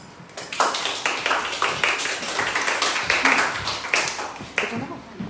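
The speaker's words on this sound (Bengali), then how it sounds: "শুরুতেই তালি" An audience claps before a poetry recitation at a Bengali book publication festival in Tokyo, a brief burst of close scattered hand claps lasting several seconds.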